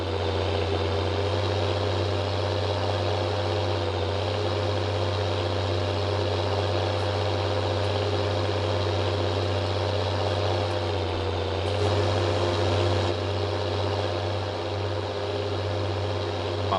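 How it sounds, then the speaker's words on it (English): A farm truck's engine drones loudly and steadily up close, a deep constant rumble with a strong low hum that barely changes for the whole stretch, no voices over it. "this truck seems even louder today than yesterday."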